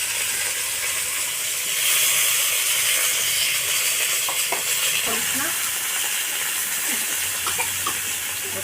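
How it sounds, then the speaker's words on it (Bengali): Okra (bhindi) fries in hot oil, a steady loud sizzle and hiss that runs unbroken throughout, with faint stirring clinks close by and no voices. "আগে আমি ভেন্ডিগুলো ভেজে তুলে নেবো, একটু ভেজে না নিলে ভালো লাগে না।"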